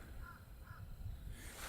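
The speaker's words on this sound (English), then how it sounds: "Those are crows." Caws from a large flock of crows at Snuggedy Swamp around dawn, two clear calls close together early on, over steady outdoor ambience with low rumbling and a faint hiss.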